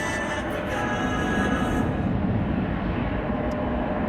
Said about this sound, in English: Here in the foreground we have KLM flight 1817 to Frankfurt.